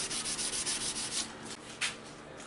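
Sandpaper wrapped around a poplar block rubbed back and forth over a knife surface, a steady close scratchy rasp in repeated strokes with no talk.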